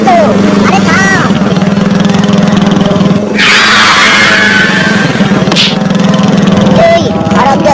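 A cartoon motorbike engine drones loudly and steadily throughout, with a burst of rushing noise partway through and voices talking over it.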